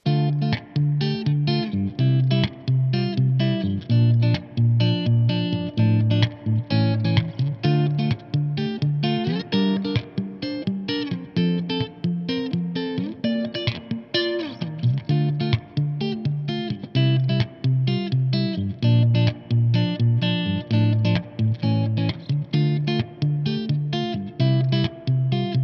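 An electric guitar with its neck pickup split plays clean tones through an Orange Rockerverb 100 amplifier, a continuous run of chords and picked notes with effects, steady and loud with no voices.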